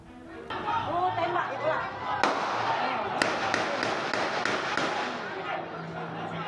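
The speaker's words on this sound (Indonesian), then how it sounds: "Situasi memanas, polisi terpaksa melepaskan tembakan peringatan." Police fire warning gunshots in a tense village in Mesuji, Lampung, a handful of sharp cracks spaced over a few seconds amid loud crowd chatter and shouting.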